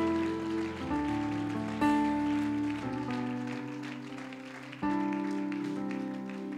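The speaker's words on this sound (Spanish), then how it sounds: "Aplauda a Dios." A church congregation claps steadily together over sustained keyboard chords during a service, and the dense clapping runs throughout beneath the loud music.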